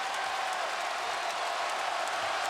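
A college basketball arena crowd at an NC State Wolfpack home game against Louisville roars and applauds after a made basket, a sustained, even wash of cheering throughout.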